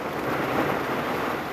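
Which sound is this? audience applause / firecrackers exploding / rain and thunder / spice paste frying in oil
rain and thunder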